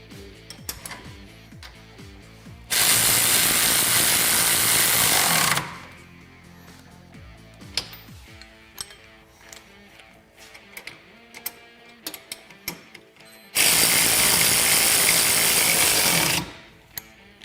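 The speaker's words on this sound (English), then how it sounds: "And we'll go ahead and fully tighten the hardware." Power tool tightening nuts on the hardware of a SuperATV high clearance A-arm on a Kawasaki Teryx KRX 1000: two loud sustained bursts of about three seconds each, with scattered clanks and ticks of handling between them.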